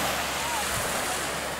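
Waves washing onto a Mediterranean beach in northern Italy, a continuous broadband surf roar with wind, steady and fairly loud throughout.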